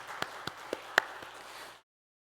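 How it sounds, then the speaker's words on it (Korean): A church congregation claps for a deaconess at a Wednesday worship service, a few sharp separate claps at first and then a steady patter of applause that stops abruptly. "우리 이선희 권사님에게 한 번 더 큰 박수 하시겠습니다."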